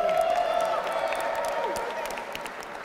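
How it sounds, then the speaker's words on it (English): A crowd at a mayor-elect's speech applauds a retired supporter, a broad round of clapping mixed with scattered cheers and whoops, while voices carry over it near the start. "Let's give Miss Ruthie a round of applause."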